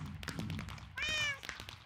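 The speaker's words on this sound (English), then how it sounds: "And do a little meow" A single cartoonish cat meow rises out of busy game noises and footsteps, short and clear, with the background clatter continuing around it.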